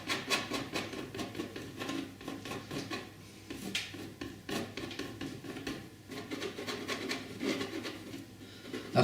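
Palette knife rubbing lightly across a painting canvas: close, continuous scraping strokes in an uneven rhythm, soft and textured, with no talking.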